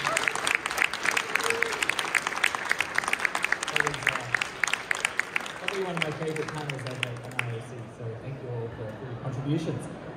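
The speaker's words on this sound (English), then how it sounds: "please give a round of applause to thank our amazing panelists today" A conference audience claps steadily for a panel, dense and lively, fading as a voice begins speaking over the tail of the applause.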